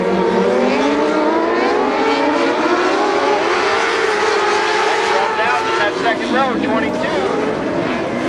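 Loud, continuous roar of dwarf race car engines sweeping past on the track at Barona Speedway, with revving pitch shifts over a steady crowd-like din.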